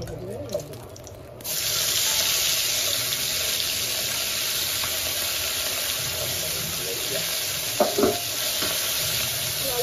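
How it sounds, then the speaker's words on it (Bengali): Steady hiss of tengra fish frying in hot oil, a continuous close sizzle with a few clinks and stirring sounds, no talking. "মাছ ভাজা হয়ে যাচ্ছে।"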